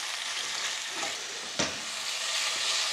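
Food frying in sunflower oil in a frying pan, a steady broadband sizzle held at an even level throughout, with a brief stir or clatter in the middle.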